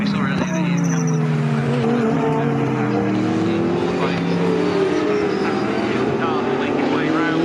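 A race car in the British Endurance Championship at Snetterton circuit rounds a corner with a loud engine note that climbs and falls as it passes, while other cars roar nearby and a commentator talks over the engines.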